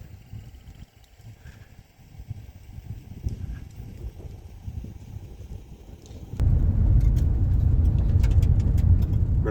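A car drives up gravel country roads near a prairie fire, its steady rumble of tires and engine growing suddenly louder and closer partway through, with crunching and rattling over the loose surface.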